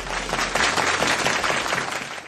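Audience applause at a Vietnamese televised idol show, a short burst of steady, full clapping from a studio crowd lasting a couple of seconds.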